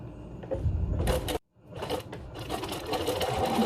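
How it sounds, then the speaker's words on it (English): Sewing machine running a zigzag stitch on a nautical-design face mask: a fast mechanical whir and rattle that stops briefly for a second, then starts again and runs on, close and loud with no talking. "I'm just going with a zigzag stitch right there on the kind of like on the old stitch."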